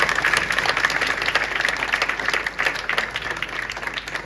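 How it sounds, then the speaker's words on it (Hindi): Audience applause in a coaching class or exam-preparation session, a dense run of many hands clapping at moderate level, steady across the whole stretch. "आज के लिए तालियां बजा"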